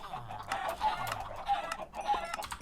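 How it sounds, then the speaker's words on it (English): Chickens clucking in the Minecraft video game, several short clucks and squawks in uneven bursts, with low background sounds and no voices. "There's a bunch of chickens in here."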